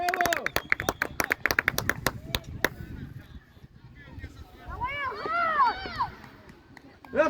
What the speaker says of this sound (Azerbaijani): Alqışlar, alqışlar.